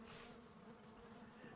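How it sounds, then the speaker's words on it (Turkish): Worker honeybees (Apis mellifera) in a video game give a continuous, quiet buzzing drone with no break. "Bunlar işçi arılar. Apis mellifera,"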